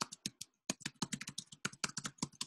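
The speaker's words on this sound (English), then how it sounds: "I'm typing for you there" Rapid typing on a computer keyboard, dense irregular clicks and key taps in quick succession with a brief pause, close and alone without talk.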